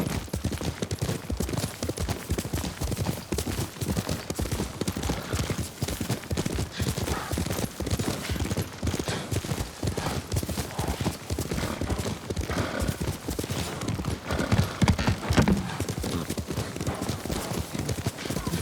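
A galloping horse in the game Ghost of Tsushima, steady rapid hoofbeats clip-clopping close and loud for the whole stretch, with a faint whinny and no talk.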